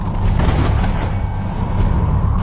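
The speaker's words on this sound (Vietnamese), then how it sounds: "giữa trời giông bão, sấm sét ầm ầm" Thunder rumbling through an animated storm scene, a heavy, continuous low booming roar that stays loud throughout with rough crackling texture on top.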